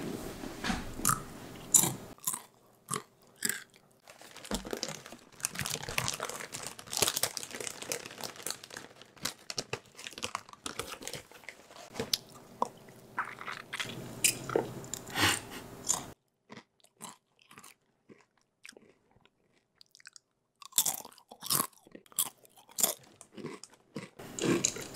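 Close, crisp crunching and biting of crunchy tortilla chips, with bursts of chewing and crinkling between short quiet pauses, no talking.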